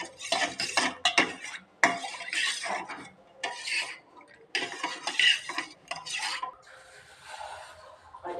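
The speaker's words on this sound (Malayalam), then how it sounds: "കട്ട കെട്ടാതെ ഇളക്കി" A spoon stirs custard mixture in a pan, scraping and clinking against the metal in steady repeated strokes, close and clear, with short pauses between bursts and no voices.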